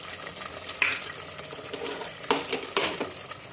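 Koftas go into a well-fried masala gravy in a cooker, sizzling and frying with stirring scrapes and a few clinks of utensil against the pot, close and without speech.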